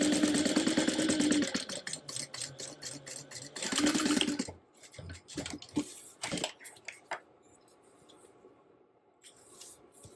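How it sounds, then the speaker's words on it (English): A sewing machine stitches lining gusset panel pieces for a crossbody bag with a 3/8 inch seam allowance, giving a close, buzzing run of rapid stitching in two bursts, followed by quieter handling noises, clicks and rustles. "Sew them with a 3/8 inch seam allowance."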